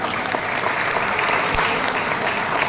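At an IFTU merger meeting in Bhadradri Kothagudem, an audience claps together in approval of a newly proposed committee, a dense, even round of applause sustained throughout, fairly loud with no clear talk over it.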